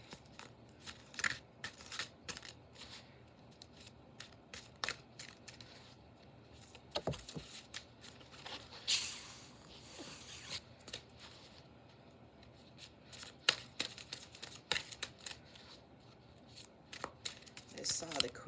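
Repeated soft tarot card shuffling, riffles and slides in quick bursts with brief pauses, close and fairly quiet, continuing throughout.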